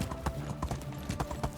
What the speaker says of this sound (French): Je vais un peu pavaner dans le village avec mon cheval